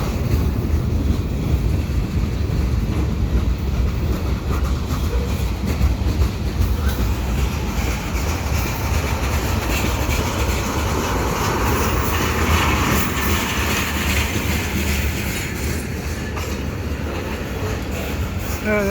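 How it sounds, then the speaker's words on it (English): A Canadian Pacific mixed freight train with stack cars rumbles steadily past on the tracks nearby, slowing for the yard at Dorval, with continuous low rolling noise and rattling wheel clatter throughout. "That's the end of the train."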